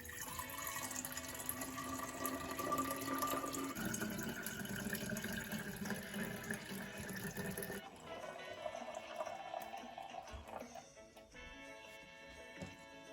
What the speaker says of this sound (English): So let's pour our juice here.